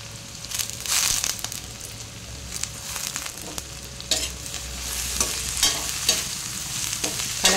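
Curry leaves hitting hot oil in a pan while cooking a fish curry, a loud close crackling sizzle with spatula scrapes and stirring clatter throughout, no talk.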